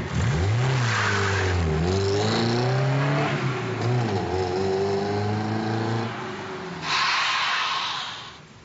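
A BMW 520 car pulls away hard, its engine revving up through rising gear sweeps with a loud, close growl, easing off and then flaring again briefly before fading out.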